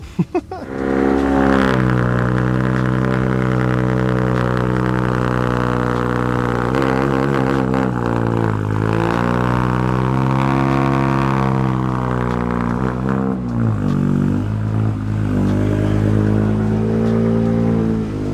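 A BMW E36 with an M50 intake manifold swap revs hard and continuously, its engine note rising and falling in a loud, brassy, trumpet-like tone, recorded up close.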